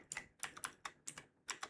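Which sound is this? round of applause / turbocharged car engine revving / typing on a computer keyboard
typing on a computer keyboard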